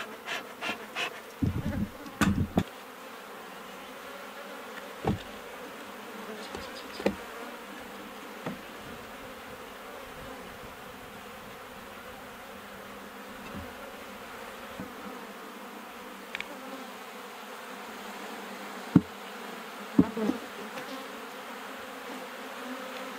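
Honeybees drone steadily around an open horizontal hive outdoors, a soft continuous hum with occasional louder buzzes as individual bees fly close past, and a few faint knocks.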